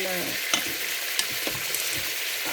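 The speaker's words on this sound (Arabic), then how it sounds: "هذا نبقى ندور فيه باش ما يسقناش" Ground onions fry in a pan for a veal paupiette dish, giving a steady close sizzle broken by a few sharp scrapes and knocks as they are stirred.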